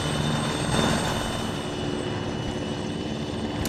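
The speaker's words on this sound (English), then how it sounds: "right now you guys are seeing all the helicopters landing. These are the Mi-8s." Mi-8 helicopters landing in Arma 3, a steady loud rotor and turbine drone that stays constant and close throughout, with no talk.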